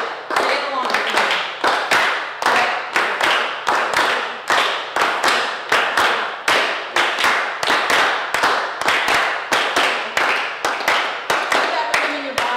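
A group claps a steady rhythm together, sharp hand claps in repeated bursts about twice a second across several bars, loud and close, with a voice chanting along between them.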